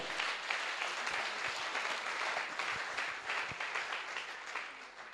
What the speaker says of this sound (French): Acclamons pour notre roi